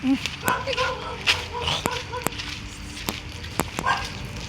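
A dog barking and yipping at night during a birthday outing, short sharp barks scattered over people talking nearby.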